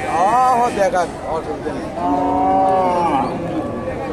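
A Sahiwal cow and calf moo at a busy cattle market in Gabtali, Bogura, with two drawn-out lows heard close by amid crowd chatter and talking.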